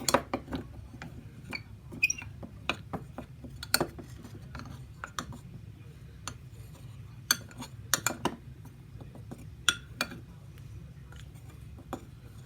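A spoon stirring moon sand with cornstarch in a bowl makes faint, scattered scraping and clinking ticks in an irregular rhythm over a quiet background.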